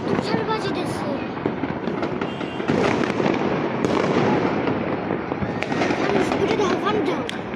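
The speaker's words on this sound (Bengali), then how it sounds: "একদিকে যেমন আতশবাজি," Fireworks bursting during a night celebration, a dense continuous crackle of many pops and bangs near and far, with voices talking throughout.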